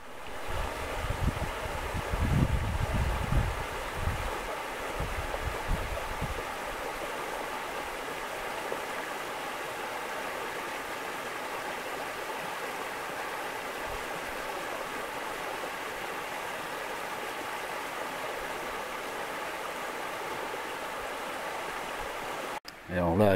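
Steady rushing of a stream flowing near a bridge fills the whole stretch, a continuous even wash, with low wind buffeting and handling noise near the start.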